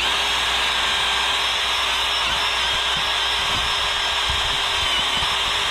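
An electric drill fitted with an abrasive accessory sands a damaged turbocharger being made into a coffee table, a loud steady whine held without a break, with faint scraping knocks from the workpiece underneath.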